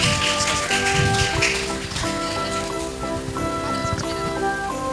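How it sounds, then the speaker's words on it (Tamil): An audience claps hands during a Christmas gift game at a church, a dense, sustained patter of applause over background music. "எல்லாரும் கரெக்ட்டா தட்டுங்க."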